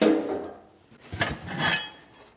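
Heavy cast-iron plates from a vintage 1900s Orbon stove being handled, with a few scattered metallic clinks and dull knocks at close range.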